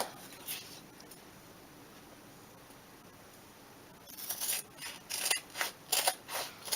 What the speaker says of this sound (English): it's really easy to cut because you've got the depth of your planner that you're holding your scissors against